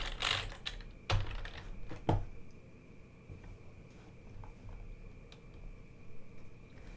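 Fingers tap on a computer keyboard during a coding session, with a few quick close clusters of key clicks near the start followed by quieter sparse taps over a faint room hum.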